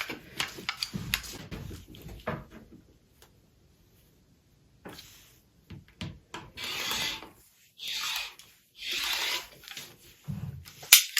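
Rotary cutter slicing 2.5 inch quilt binding strips from fabric along a ruler, heard as several close scraping bursts with pauses and handling noise between them.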